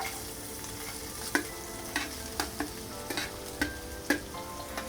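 Chopped onion frying in hot oil for an egg dish, a steady broadband sizzle running throughout with sharp scraping clicks of a spatula stirring the pan at irregular intervals, close and fairly loud with no talking.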